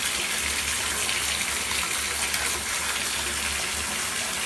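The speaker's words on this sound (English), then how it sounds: "The water has to be really cold for them to change back." Cold water pours steadily from a tap over Monster Jam toy trucks, a constant close rushing splash with a low rumbling undertone and no talk.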